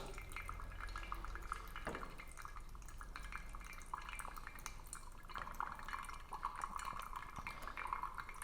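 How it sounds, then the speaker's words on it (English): Hot water is poured slowly in circles over Gesha 1931 coffee grounds in a pour-over brewer, making a faint, soft trickle with light drips and occasional small glassy clinks in a quiet room. "I'm gonna pour to 250. Slow circles, in and then out."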